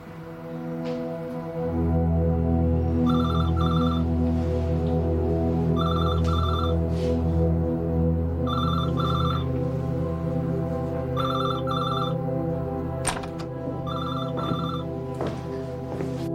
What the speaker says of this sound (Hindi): मूसापुर साहब लाइन पर हैं। इससे पहले भी कई बार फ़ोन कर चुके हैं।